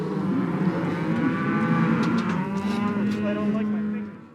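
Cattle and calves bawl and moo loudly and continuously during roping and branding at a ranch, several overlapping low calls close by, fading near the end.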